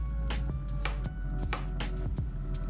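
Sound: chopping pickled cucumber

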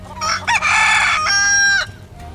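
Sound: chickens clucking in video game Final Fantasy VII Rebirth

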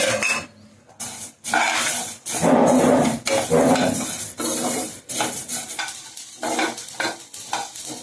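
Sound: dry-roasting cumin and coriander seeds in a pan

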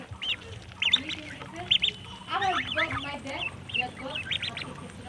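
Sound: young ducks quacking

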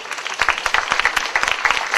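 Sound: audience applause at a theatre contest finale

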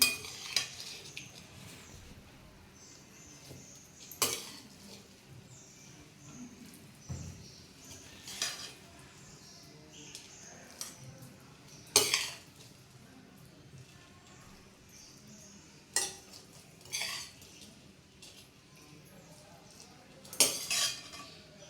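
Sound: transferring cooked vegetable dish from pan into bowl

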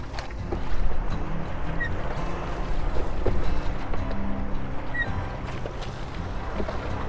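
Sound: dory boat moving through water, lifted by a wake

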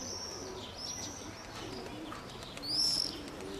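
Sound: pigeons

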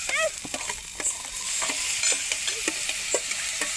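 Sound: garlic, onion, tomato and chillies frying in a pan

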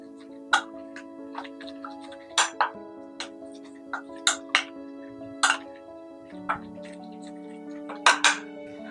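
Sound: mixing soya chunks with masala and garlic

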